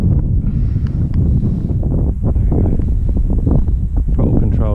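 Strong gusting wind roars and buffets the microphone outdoors while an RC bird-style plane, the Minator FX651, is flown, with a person talking over the constant rumbling noise.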